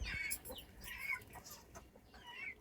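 A native country hen clucks in short, uneven bursts while settled in its laying spot, close by and fairly quiet, with a few sharper calls mixed in.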